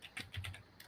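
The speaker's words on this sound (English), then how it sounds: "I am typing up the next prompt" Quick keystrokes on a computer keyboard, a short burst of five or six soft clicks close by and fairly quiet, with no speech.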